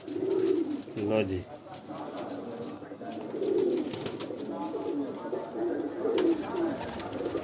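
Red pigeons coo in a rooftop loft, the soft repeated calls running through the clip alongside other birds, with someone talking over them nearby.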